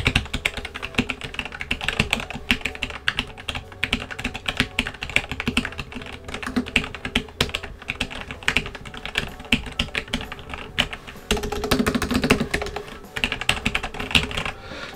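Someone types hard on a silent red-switch mechanical keyboard, sending out a dense, rapid patter of muted keystrokes with brief bursts of heavier presses, close up and with no voices.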